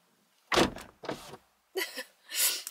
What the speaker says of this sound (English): Let me do the door slam.